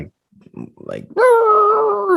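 A person's voice imitates a sleeping dog whimpering: a few soft breathy murmurs, then a loud, sustained, wavering high whine that holds for about a second, close and clear.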